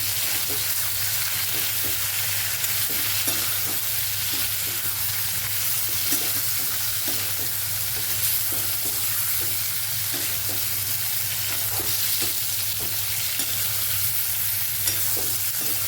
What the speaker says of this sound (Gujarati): આવી જ રીતે રીંગણાને આપણે ફ્રાય કરતું રહેવાનું, ફેરવતું રહેવાનું